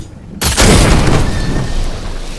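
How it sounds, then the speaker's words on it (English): A cannon fires in a video game, one sudden loud boom after a short quiet lead-in, followed by a long rumbling blast that slowly fades. "Then use this cannon!"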